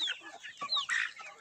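Chickens and young roosters cluck and squawk close by in a poultry yard, a quick series of short, overlapping calls with no talking.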